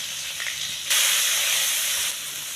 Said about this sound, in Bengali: এই পেঁয়াজগুলোকে ভেজে নেব।